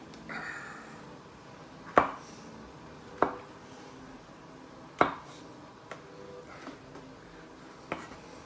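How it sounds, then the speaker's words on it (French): A knife slices button mushrooms into thick slices on a board in a kitchen, making about six sharp, irregularly spaced chopping knocks against a quiet background, with no talking. "On va les couper en lamelles relativement épaisses"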